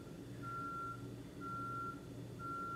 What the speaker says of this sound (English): If you hear a beeping in the background, that would be the neighbors